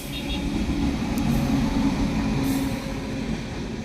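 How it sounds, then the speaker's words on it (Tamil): A train rumbles past steadily at moderate loudness, a continuous rolling wagon noise with a faint high squeal, heard alone without talk. "ட்ரெயின் வருது"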